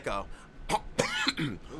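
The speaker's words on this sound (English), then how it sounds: "And a cough too, apparently" A few short, harsh coughs and throat-clearing bursts close up, irregularly spaced over a couple of seconds.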